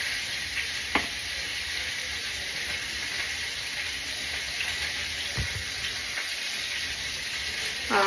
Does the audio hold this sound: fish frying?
yes